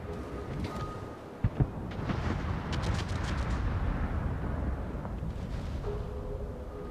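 Naval artillery salvos from the German cruiser Prinz Adalbert in World of Warships, a cluster of sharp booms followed by rolling, rumbling blasts and battle noise, loud and dense with no talk over it.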